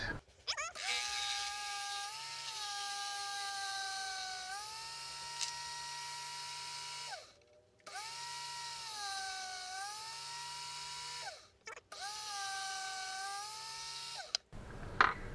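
A power drill with a chuck-mounted bit whines loudly in long sustained bursts with brief pauses between them, its pitch dipping slightly as the bit bites in.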